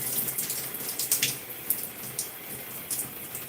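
Water is applied to curly hair during a pre-poo treatment, giving soft, close splashy hisses in several short bursts that stay fairly quiet, with no talking.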